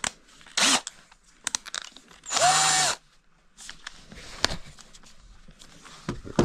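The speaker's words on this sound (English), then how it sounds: "put it in the drill" A power drill whirs loudly for about half a second, then again for a longer burst, amid clattering handling noises and scrapes while setting up the points on a Yamaha XS650.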